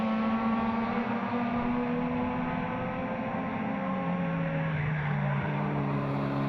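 Race cars in a NASA Performance Touring event roar around a track, steady loud engine tones sliding down in pitch as the cars pass.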